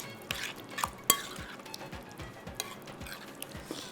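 Sandwich filling with cheese is stirred in a bowl, giving close, irregular scraping and soft clinks of a utensil against the bowl, with a few sharper taps.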